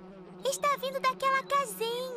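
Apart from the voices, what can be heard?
bees buzzing in a beehive, cartoon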